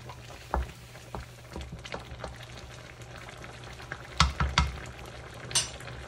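Pork liver stew (igado) sautés in a pan with a steady sizzle, broken by sharp knocks and scrapes of a spoon as it is stirred.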